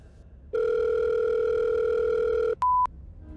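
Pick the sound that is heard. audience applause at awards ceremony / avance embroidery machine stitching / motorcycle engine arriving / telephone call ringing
telephone call ringing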